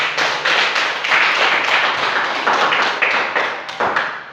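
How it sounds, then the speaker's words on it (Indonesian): Dense, steady audience clapping from a crowd at an Indonesian presentation event, continuous and close throughout with no talk over it. "Ya, tepuk tangan dulu."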